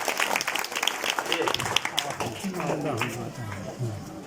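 Scattered clapping from a small audience at a youth talk gathering, quick uneven claps that overlap with a voice talking over them.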